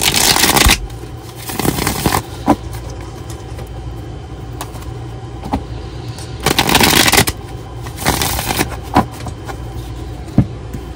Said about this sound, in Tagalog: balasahin muna po natin